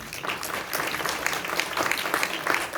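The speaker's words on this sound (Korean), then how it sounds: "박수 한번 쳐줘봐요." Congregation in a church service bursts into steady applause, a dense, continuous patter of many hands clapping close by that holds at an even level for the whole span with no voices over it.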